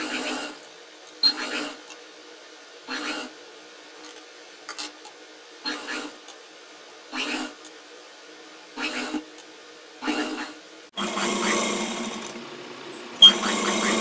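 A sewing machine stitches a neck design into folded cloth in short, evenly spaced bursts of whirring, each followed by a brief pause, ending in a longer continuous run.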